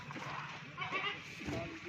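Goats bleating at a goat farm as they are loaded onto a vehicle, with a few bleats rising over steady background noise while someone talks nearby.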